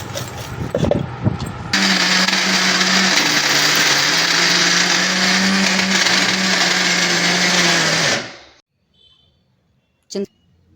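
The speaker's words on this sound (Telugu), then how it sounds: "ఇప్పుడు ఇవన్నీ మిక్సీ పట్టేస్తుంది" A kitchen mixer grinder whirs loudly and steadily for about six seconds while grinding garlic, cumin, peanuts and tender tamarind leaves, then spins down to silence, with brief handling noises before and after.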